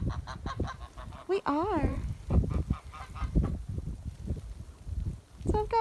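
Sebastopol geese honking outdoors in the snow, a run of close, loud, repeated nasal honks coming in quick bursts, with someone talking briefly among them.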